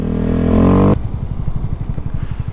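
Motorcycle on a snow day, engine revving hard and loud as the rear wheel spins out, then cutting abruptly to a rapid idling putter with light clatter, close by.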